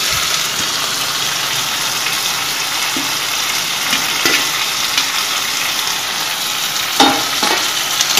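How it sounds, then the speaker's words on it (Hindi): Okra sizzling loudly in a hot pan as chopped onions go in, a dense continuous crackle and hiss with occasional stirring scrapes and spatters, close up and without talk. "अब हम इसमें प्याज ऐड कर देंगे।"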